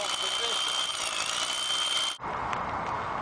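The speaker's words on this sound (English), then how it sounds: "Now Eddie here is going to drill the hole." A drill boring a half-inch hole into cement whines loudly and steadily for about two seconds, then cuts off abruptly, leaving quieter background noise.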